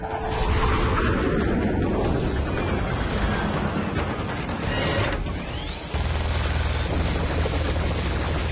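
A transport helicopter in the video game Metal Gear Rising: Revengeance, its loud whirring mechanical drone mixed with ratcheting clanks, sweeping whooshes and a dull blast, steady and close throughout.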